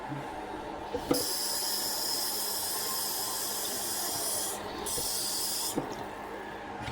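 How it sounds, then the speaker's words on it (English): Fresh water poured into a cooking pot while layered pork chops are cooked, a steady rushing hiss of flowing water with two brief breaks, fairly close and continuous throughout. "Add some fresh water to that."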